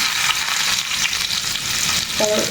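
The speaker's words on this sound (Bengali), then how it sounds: "মরিচটা আমার ভাজা হয়ে গেছে এখন আমি রসুন কুচিগুলো দিয়ে দেবো" Chopped garlic hits hot oil in a pan where chillies have already fried, giving a steady, loud, close hiss of sizzling that runs unbroken throughout with no voices.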